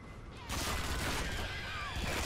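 A smart gun in the video game Aliens vs Predator fires a sustained burst that starts abruptly. It rattles loud and close with a crackling wash for about two seconds.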